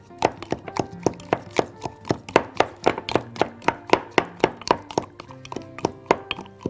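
Strawberries and mint leaves are crushed with a muddler in a glass for a strawberry mojito. The thuds come in a steady, fairly fast rhythm, about two or three per second, close and distinct.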